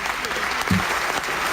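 Live audience applause after a song, a short steady patter of clapping from a modest crowd with a brief louder thump midway, no talk over it.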